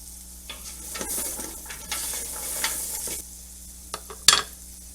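Vegetables and onions sautéing with salt and pepper in a pan, a soft steady sizzle broken by several stirring scrapes and a sharp utensil clink near the end; close and moderately quiet, no talk.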